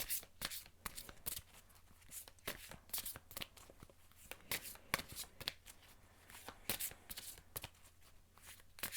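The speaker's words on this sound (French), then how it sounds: "Je mélange les cartes en même temps." Archangel Michael oracle cards shuffled by hand in a steady run of crisp riffling slaps and flutters, close and fairly loud, continuing alone without talk.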